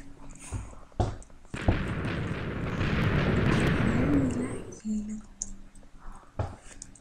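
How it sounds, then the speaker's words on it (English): A huge explosion in a video game: a loud, dense roaring blast swells up at once and rumbles on for about three seconds before cutting off, with short thumps and quiet voices around it. "That was a huge explosion."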